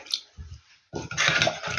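Water poured from a measured amount onto powdered gelatin for a jelly cake, a short splash and trickle that swells into a steady close pour after a faint first dribble.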